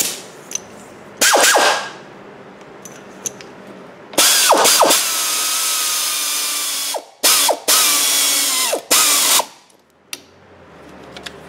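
A pneumatic impact wrench spins lug nuts on a Ford Escape wheel during a front brake job, firing several loud, close bursts of high-pitched whirring and hammering ratchet noise, each ending abruptly, with short quiet gaps between them.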